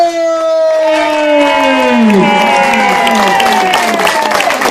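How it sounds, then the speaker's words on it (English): Crowd clapping and cheering at an outdoor slugburger eating contest in Corinth, Mississippi, with a loud siren-like wailing tone sweeping downward over the continuous applause. "round of applause for the finest timekeeper in the history of sports"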